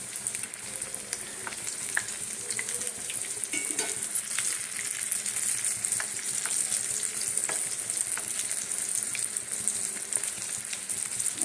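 Meat chops frying in oil over a low flame give a steady, even sizzle with soft crackles and pops throughout, with no voices over it.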